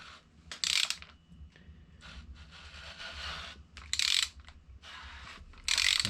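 A seized Ford 170 six-cylinder engine turned over by hand, giving rough ratcheting, clicking mechanical strokes in repeated bursts, close and moderately loud, with scraping grind between pulls and no talking.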